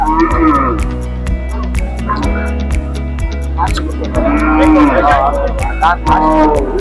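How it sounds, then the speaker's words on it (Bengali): Large sacrificial cattle lowing at a crowded Eid livestock market near the India border in Haluaghat, Mymensingh, with repeated low moos and clatter rising over constant crowd chatter and nearby voices. "বেশ বড় গরু"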